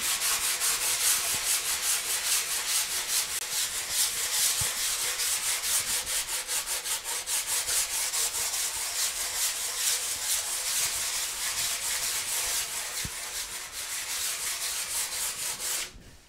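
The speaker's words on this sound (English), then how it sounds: "I'm just sanding back that thin layer of varnish to get rid of the texture that I left on there" Steady, continuous scratchy rasping of sandpaper lightly sanding a thin layer of varnish off a wooden table surface, close and even in loudness throughout.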